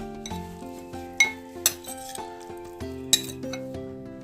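Poha being mixed with onion, coconut, cucumber and coriander for Konkan-style dadpe pohe, heard as light clinks and scrapes of a spoon against a bowl, with a few sharper taps over soft background music.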